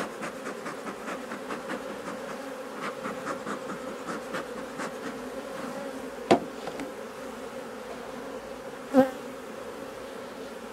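Honey bees buzz continuously around an open hive during a summer honey harvest, a dense close drone with a couple of sharp knocks or taps breaking through.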